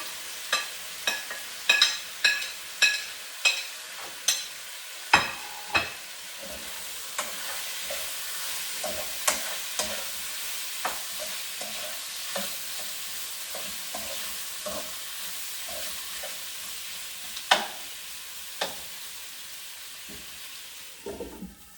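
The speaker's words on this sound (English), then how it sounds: "So the pork is ready. I'm going to drop in the" Potato and pork stir-fry sizzling steadily in a hot pan, punctuated by a run of sharp, regular scraping and stirring clacks of a utensil against the pan, close and fairly quiet.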